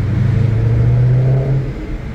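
BMW E39 M5 V8 with a straight-piped custom exhaust gives a brief, loud, deep rev that holds a steady droning note before easing off, close up and alone.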